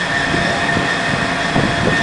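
A steady, unbroken roar of distant traffic from the Bronx River Parkway heard at the Bronx Zoo, a broad rumbling wash of noise with no voices.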